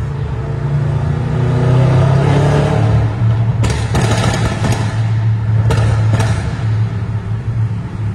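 An Audi RS6 C8 Stage 2 with a Milltek exhaust roars loudly close by, its deep drone rising and falling as it revs, with a few sharp clatters partway through.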